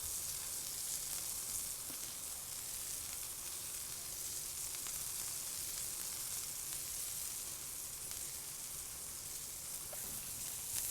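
Breaded pickles crackle and sizzle in hot oil, a steady, busy frying hiss that runs unbroken without talk.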